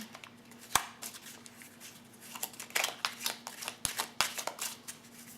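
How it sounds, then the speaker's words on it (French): Oracle cards from the Murmure de nos anges deck are shuffled and drawn by hand, giving quiet close-up riffling and papery flicks with a few sharp taps, no talking. "Alors ensuite, on va tirer une carte de Murmure de nos anges."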